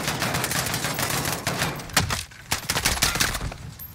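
Rapid bursts of gunfire from a Modern Warfare campaign battle, a dense crackling barrage of overlapping shots that thins out and then returns in sharp, loud cracks.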